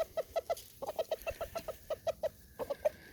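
A chicken clucks in a rhythmic series of short, close calls in a Texas backyard garden, with a brief pause midway before the clucking resumes.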